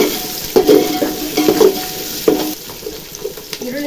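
Onion frying in oil in a pan while cooking chicken biryani: close sizzling with bursts of stirring scrapes and clatter, uneven and lively, with no talk.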